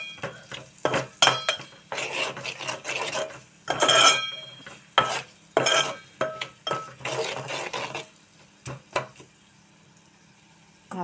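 Onions with salt and turmeric are stirred in a pan for an okra curry, producing repeated loud scraping and clanking spoon strokes in irregular bursts over a faint sizzle. The strokes fade to quiet near the end, with no talking.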